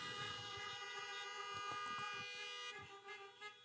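Several car horns honk in overlapping sustained toots from vehicles parked at a drive-in church service in Colombo, steady and fairly loud across the stretch, thinning out toward the end.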